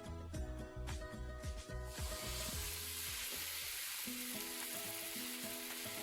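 A few low plucked notes, then batter hits hot oil and a loud, steady sizzle takes over, close and continuous.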